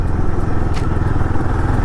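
A Royal Enfield Guerrilla 450 motorcycle rides through city traffic, its engine giving a steady, close, deep rumble throughout with a brief brighter burst midway.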